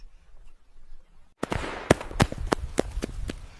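After a quiet start, a rapid string of sharp firecracker bangs erupts, loud and close, popping irregularly over a crackling background.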